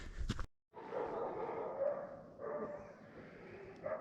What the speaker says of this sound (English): I can hear dogs out on the trail.